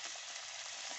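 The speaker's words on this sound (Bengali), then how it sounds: "মাছ ভাজাগুলো দিয়ে দিলাম, নেড়ে চেড়ে দিলাম।" Fried fish pieces go into a simmering spicy fish curry (macher jhal) and are stirred, giving a steady, close, even sizzle and bubbling hiss throughout with no talking.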